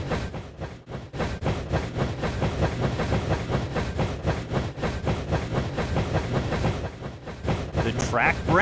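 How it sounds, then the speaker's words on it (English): In the Dinosaur Train Racing Rail Rally computer game, a powered train runs with a fast, even clickety-clack rhythm. The chugging stays loud and constant with faint voices underneath. "Press the space bar to power your train."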